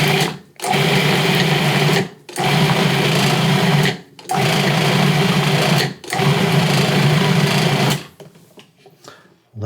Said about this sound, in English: Now, we're going to pulse this until it's well combined.